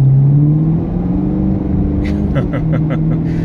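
A 2016 Chevrolet Camaro SS V8 with dual-mode exhaust gives a loud, close engine drone that shifts pitch as it accelerates, with a few short clicks near the end.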